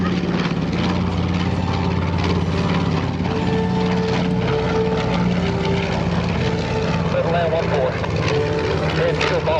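A North American B-25 Mitchell bomber flies past at an air show, its piston engines giving a loud, continuous propeller drone that stays strong throughout with no talk over it.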